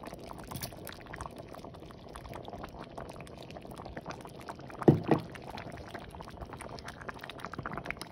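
Pinto beans and ham hock simmering in a pot after two hours of boiling, a steady soft bubbling throughout with a couple of louder gurgling pops midway; no voices.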